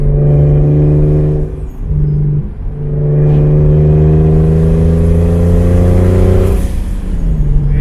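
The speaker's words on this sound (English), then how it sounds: "I'm gonna do like a half full, see what the AFRs look like" A turbocharged BMW E36 engine revs at half throttle, a loud, steady, harmonic drone that dips briefly, climbs again and holds for several seconds, with no voices.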